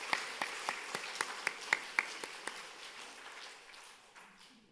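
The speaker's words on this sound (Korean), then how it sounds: "큰 박수 한번 보내주시기 바랍니다" A church congregation claps in a steady unison rhythm, about a dozen sharp, evenly spaced beats at moderate distance, after which the claps blur into a softer, fading scatter.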